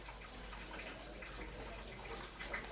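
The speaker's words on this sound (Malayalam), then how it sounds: "ഇനി നമുക്ക് ഇതിലേക്ക് പച്ച വെളിച്ചെണ്ണ ഒഴിക്കണം" Raw coconut oil poured into a dish in a home kitchen, a soft, steady trickling pour that stays faint throughout with no voices.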